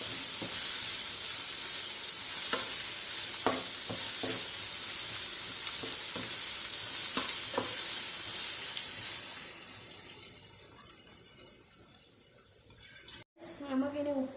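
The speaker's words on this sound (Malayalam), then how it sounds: "അപ്പോൾ ഇത് കുറച്ച് നേരം ഇളക്കിക്കൊണ്ടിരിക്കണം." Kerala-style egg roast masala stirred and frying in a pan, a steady sizzle with spoon scrapes against the pan, close and clear; the sizzle fades toward the end, followed by a brief clatter and a voice speaking.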